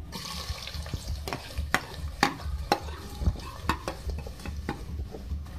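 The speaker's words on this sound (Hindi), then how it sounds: "सबसे पहले मैंने यहाँ पे ऑयल लिया है, इसमें मैं प्याज ऐड करूँगी मीडियम साइज़ के" Medium onions frying in oil for a village chicken curry, sizzling under repeated sharp stirring scrapes and clinks from a utensil in the pan, close up with no voices.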